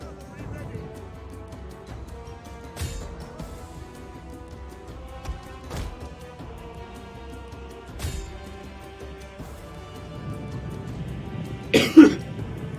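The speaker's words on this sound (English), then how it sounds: "I've still got a bit of a cough, so I am muting myself quite a bit." A person coughs loudly near the microphone near the end, after a few quieter throat sounds, over soft music and ambience from the strategy game Total War: Attila.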